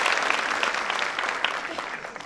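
Audience in a school auditorium at a LeaderSHE Talks event applauds the speaker's mother, a steady wash of clapping with a few sharper individual claps standing out, no voices on top.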